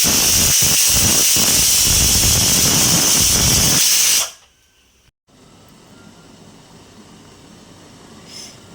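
Steady, loud steam hiss from an idli cooker for several seconds, then cutting off abruptly, leaving faint room quiet.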